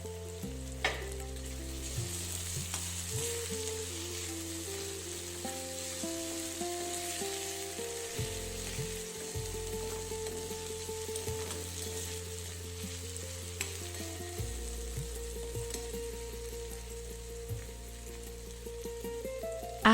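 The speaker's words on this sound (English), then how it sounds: "open the lid of the pan and stir the ingredients well" Beans sabji frying in a pan while being stirred, a steady close sizzle with scraping spoon strokes running throughout, fairly even in level and with no voices.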